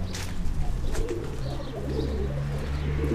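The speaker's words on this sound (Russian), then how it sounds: "Голубь." A pigeon coos in low, soft repeated calls at a mini zoo inside a resort palace, close and clear over faint ambient noise.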